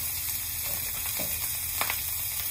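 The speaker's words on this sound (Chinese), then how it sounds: "这就是我的牛肉蛋炒饭" Beef and egg fried rice sizzles steadily in a hot wok, a continuous close frying hiss with a few brief stirring scrapes and crackles.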